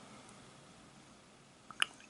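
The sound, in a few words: bulb syringe sucking up water for fountain pen cleaning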